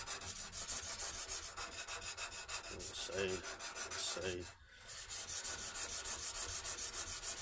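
A chisel rubs back and forth freehand on a sharpening stone in steady, rhythmic rasping strokes heard up close, with a brief pause partway and a few quiet spoken words.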